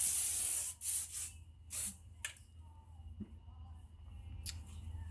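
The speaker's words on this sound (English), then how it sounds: "And we're going to spray." Several short, close hissing bursts of hairspray on hair, three quick sprays in a row, then quieter rustling and handling sounds.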